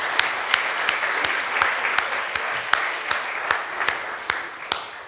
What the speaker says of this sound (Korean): 우리 모두 박수로 격려하겠습니다